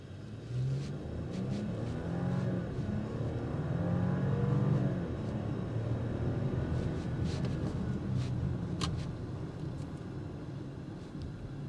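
2025 Audi Q8 Premium Plus SUV accelerating hard from a stop on a straight road. The engine swells into a deep rising rumble from inside the cabin, then settles to a steady cruising drone, with no one talking.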